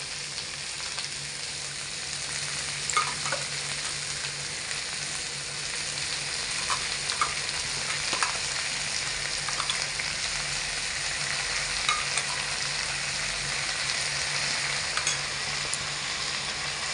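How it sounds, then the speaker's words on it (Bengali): Onion, green chilli and ginger-garlic paste fry in a pan with a continuous, even sizzle and scattered faint clinks of stirring throughout. "এবার আমি এতে আদা রসুন পেস্টটা তুলে দিয়ে ভালো করে মশলাটাকে ভাজা ভাজা করব।"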